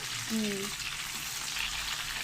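Meat for kebab hala sautéing in a hot pot gives a steady, loud hiss of frying and sizzling throughout, with a brief faint tonal squeak early on.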